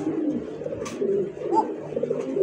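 Kaka pigeons at a Bangladeshi pigeon seller's stall give low, soft, repeated coos, close and steady, with faint background noise and no talk.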